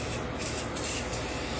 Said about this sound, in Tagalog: So, isprehan na to og oil.